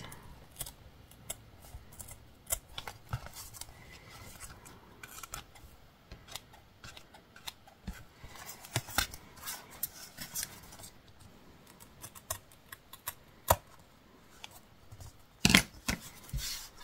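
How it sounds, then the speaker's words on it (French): Scissors trimming paper for a scrapbooking card, a quiet run of short crisp snips and rustles at irregular intervals, close and without voices. "Donc je vais découper tout ce qui dépasse."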